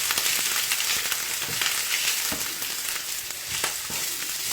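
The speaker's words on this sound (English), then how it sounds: "I've added my onions." Onions fry in oil in a pan, a steady close sizzle with crackling pops throughout and no voices.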